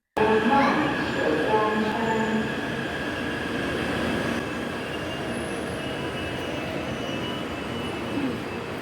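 A metro train rolls through Songshan metro station with steady rumbling and high squealing wheels, loud and continuous throughout.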